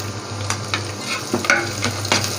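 Finely chopped garlic frying in oil in a pan for a beef curry, a close steady sizzle under a low hum, with several quick spatula scrapes and taps at irregular intervals and no talking.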